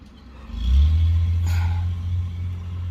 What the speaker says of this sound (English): It's a car coming by with a loud, ooh, they raggedy.